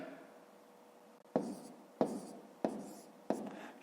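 Pen writing by hand on paper during a fifth-grade maths exercise, heard as four crisp scratchy strokes at a steady rhythm, close and quiet, after a soft hushed stretch.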